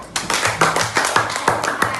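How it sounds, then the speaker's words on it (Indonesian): Schoolchildren applaud in a classroom, a close, brisk run of evenly paced hand claps repeating about six times a second with no voices over it. "Sekali lagi tepuk tangan untuk semua anak-anakku."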